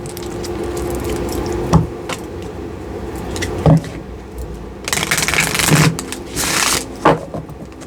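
Angel cards being shuffled by hand in a quiet room, with several crisp riffling bursts and soft card slaps spread across the stretch, the longest flurry near the middle.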